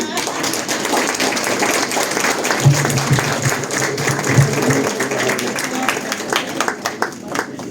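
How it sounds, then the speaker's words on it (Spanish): Audience applauding after a lecture on women from a philosophical perspective: steady, moderately loud clapping from a crowd in a hall, with a few louder individual claps standing out. "Yo considero que ese aplauso fue muy tímido para esta majestuosa."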